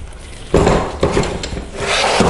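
New batteries slide into a Quantum Q6 Edge power wheelchair, a close, loud scraping and rubbing of hard casing with a few sharper bumps as they are pushed into place.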